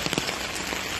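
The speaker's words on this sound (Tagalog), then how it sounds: "napakalakas ng ulan" Heavy rain pouring down outdoors, a dense continuous hiss of drops drumming on surfaces with a few sharper spatters, loud and steady with no voices.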